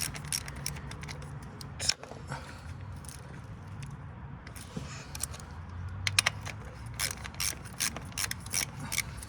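Ratchet clicking while bolts come off a wire harness bracket on an Acura TL Type S V6 during valve cover work, with metallic taps and tool clatter in short bursts, close and fairly quiet.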